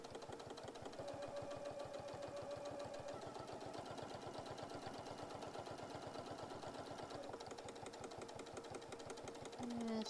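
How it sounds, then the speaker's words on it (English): Sewing machine stitching across fabric at a fast, even rhythm, a close mechanical whir with rapid regular needle clicks that holds steady throughout, no speech. "I do about a stitch or two in, back tack, and then go all the way across"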